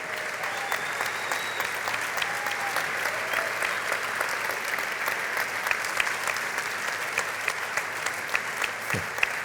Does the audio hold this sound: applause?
yes